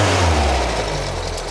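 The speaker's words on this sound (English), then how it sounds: "We're idling at 1100 RPM. Engine's fairly sweet." A carbureted car engine idles at 1100 RPM, running slightly rich, with a steady, low rumble, loud and close, holding an even tone throughout.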